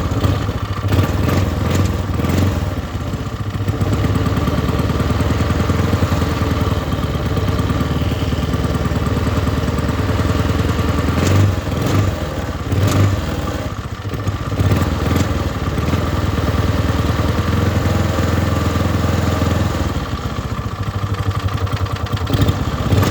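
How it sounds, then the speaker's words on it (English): A newly built Hammerhead 150 go-kart engine idles low while cold, a steady near mechanical putter with light clatter that holds for the whole stretch, no talking over it. "I think I got the idle set a little low. But it idles higher once it warms up"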